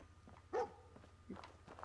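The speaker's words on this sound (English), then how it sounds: "What are you barking at?" One brief dog bark from the Fallout 4 companion dog, moderately close, followed by soft footstep-like shuffles and light movement sounds in a quiet game scene.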